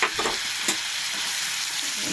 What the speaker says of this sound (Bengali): নেড়ে ছেড়ে ভাজা ভাজা হবে, তো ভাজা ভাজা হবে কেমন, সুন্দর ভাজবো।